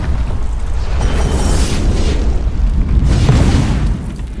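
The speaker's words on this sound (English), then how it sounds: "the ultimate does one shot Muzan, so the ult is definitely strong" An ultimate ability blast in the Demon Soul Simulator video game booms loudly and continuously, a dense roaring explosion with rumbling low end that swells twice before fading slightly at the end, with no talk over it.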